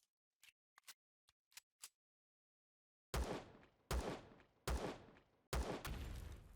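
In Empyrion, four loud pistol shots ring out at a steady pace, each with a sharp crack and a ringing tail. Several faint clicks come first in near silence.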